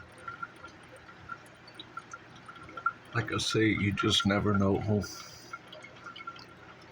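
A Mr. Coffee maker from Walmart pours coffee in a close, gurgling splash lasting about two seconds, set between quiet drips while someone talks.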